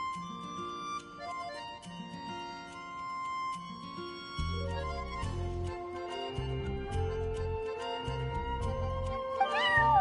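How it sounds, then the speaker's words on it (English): A cat meows from a windowsill in Genshin Impact, its cries mixing with sustained tonal game music and faint ticking, fairly quiet with no talking. "I'm sorry, that's my neighbor's cat."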